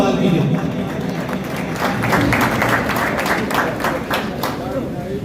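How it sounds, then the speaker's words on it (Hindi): A crowd at the Jhelum Cricket League opening ceremony applauds to welcome the teams, a thick, continuous burst of clapping from many hands, loud and sustained, while an announcer's voice carries over it. "भरपूर तालियों से उन लोगों का इस्तकबाल कीजिए।"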